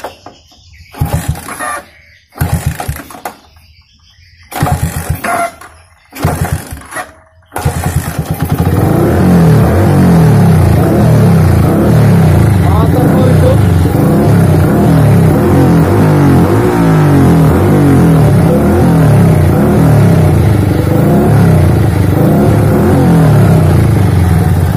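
A Yamaha Vixion motorcycle with a modified carburetor and faulty ignition cranks in several short bursts, then catches and runs loudly and continuously with a rough, uneven idle close to the mic.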